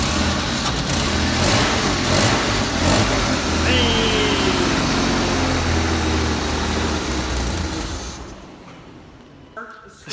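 A BMW M3 with an S52 engine started and idling, a loud broadband roar and steady rumble that fades out near the end, with people talking over it.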